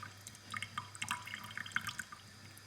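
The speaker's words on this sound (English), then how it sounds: "Water running into the kitchen." Water from a restored, long-abandoned well runs into a kitchen, trickling and dripping in quick irregular splashes at close range with no voices.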